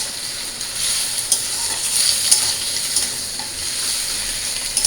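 Fried fish head going into lentil dal for a fish-head dal, with a steady sizzle and stirring scrape in a pan, close and continuous, with no voices.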